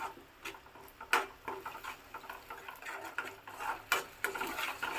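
A spoon stirring sauces into gobi manchurian in a pan, giving quiet, close scraping and tapping strokes in an uneven rhythm with a few sharper knocks.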